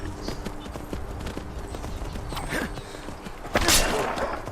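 Horse hooves clopping in the Skyrim Special Edition video game, a steady rhythmic trot of repeated hoofbeats at moderate distance, with a brief louder rustle near the end.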